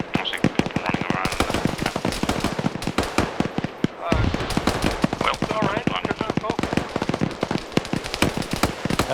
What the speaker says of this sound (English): I think shots are going above their head.